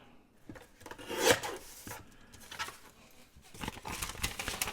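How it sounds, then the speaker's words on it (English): Scissors snip and paper rasps as the ends of a junk mail envelope are trimmed open, a few quiet close cutting and rustling bursts with short pauses between, no voices. "Trim this one just enough to open it."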